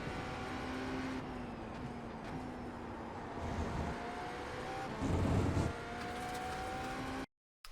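A GTP prototype race car runs at full speed around The Bend circuit in iRacing, its engine a steady, moderately loud drone with a brief deeper swell near the end before cutting off.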